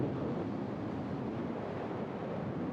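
Strong wind buffets the microphone on a 32 km dam crossing the sea, a continuous loud rumbling roar with no breaks and no voices.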